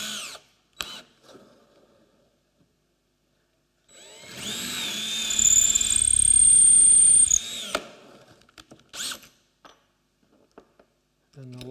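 A power drill with a 1/4 inch bit bores into a chisel handle for about four seconds with a rising whine, and short taps and knocks come before and after it in a quiet room.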